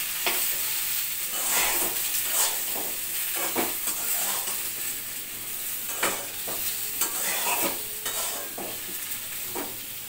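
Mutton with yogurt, turmeric and spices frying in a pan while being stirred: a loud, steady sizzle broken by repeated scraping strokes of a spoon, close up, with no voices.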